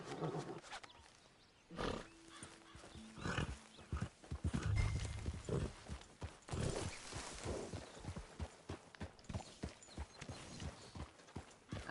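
Horse hooves in the video game Red Dead Redemption 2 clip-clop in an uneven, fairly close rhythm, with snorts and other animal sounds mixed in over a low background.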